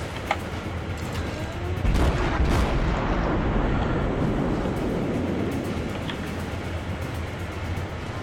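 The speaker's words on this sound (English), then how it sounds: "Alright, return fire is incoming." Naval gunfire in World of Warships, with deep booming shell blasts and heavy rumble rolling under a dense roar, the loudest burst about two seconds in, then sustained rumbling with no voices.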